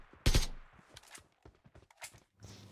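AKM rifle fire in PUBG Lite: one sharp, loud shot followed by a loose string of quicker, quieter reports and clicks, with another strong crack near the end.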